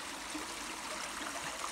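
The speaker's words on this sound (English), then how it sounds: "See this little tiny stream here?" A small stream breaking off a river trickles and flows nearby at a campsite, a soft, steady watery rush that stays faint and unbroken, with no one talking.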